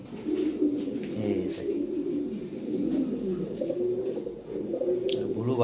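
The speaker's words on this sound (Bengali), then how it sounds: "আর এইখানে এক পেয়ার কবুতর আছে" European Lahori pigeons in a loft coo steadily and close by, their low, throaty, overlapping calls rolling on continuously throughout.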